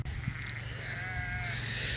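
Sheep and lambs bleat on a farm where lambs are being weaned from ewes, a few plaintive calls over a constant low hum from a shed.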